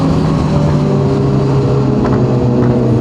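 A new S1000 motorcycle rides just ahead on the road, its engine a steady close drone with a strong low hum and slight revving swells throughout, no talk.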